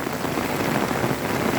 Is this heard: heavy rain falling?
yes